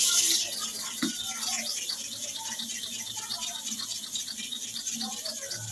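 Clipper blades are sharpened with repeated strokes, giving a continuous fine gritty scraping with a faint rhythmic texture, low in level with some background hiss.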